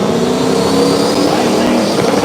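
A Chevy S10 with a 5.3 engine roars down a drag strip at KD Motorsports Park, a loud, sustained, close engine drone with a commentator's voice over it.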